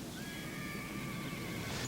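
A horse neighs in a long, drawn-out whinny with a wavering pitch, moderately distant against a steady background hiss.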